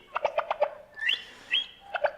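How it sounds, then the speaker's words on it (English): Nightingale song recording: a quick series of sharp pulsed notes followed by two clear rising whistles and a final burst of chirps, moderately faint, with no voices. "from a nightingale, which is now coming in right there"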